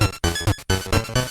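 Handheld Mario game music: short, bright, bouncy chiptune phrases with punchy notes and brief gaps, loud and alone.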